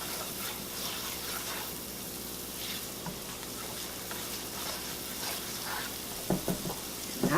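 Spices stirred into softened vegetables sizzling steadily in a pan for liver pâté, a continuous close fry with soft spoon scrapes and a few sharper clatters near the end.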